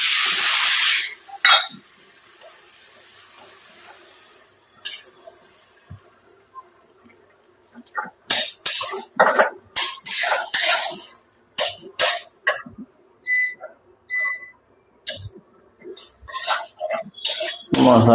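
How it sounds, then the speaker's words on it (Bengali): Water goes into a hot pan of turmeric spice paste for a Bengali cauliflower curry, giving a loud hiss and sizzle at first, then a stretch of quiet and repeated bursts of clattering and sputtering up close. "জল দিয়ে দিই।"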